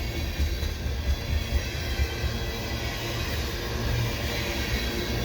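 A CP westbound freight train rolls steadily past nearby in fresh snow at Cedar Park station, a continuous loud rumble of wheels and cars with no break.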